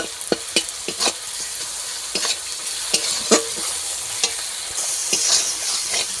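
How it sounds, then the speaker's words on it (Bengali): Chopped onion and crushed garlic sizzle as they fry in a pan, with repeated sharp scrapes of a spatula stirring through them at an irregular rhythm, close and clear, with no talking. "কিছুক্ষণটা একটু করে নেড়ে চেড়ে ভালো করে ভেজে নিয়েছি"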